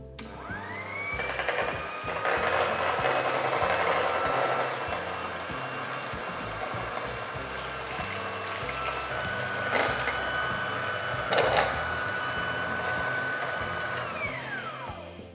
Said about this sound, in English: Mix the eggs and sugar together.